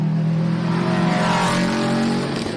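A production cup rally car roars past on a Gippsland Rally stage at Thomson, its engine loud and close, holding steady revs as it sweeps by and then fades slightly, with no talk over it.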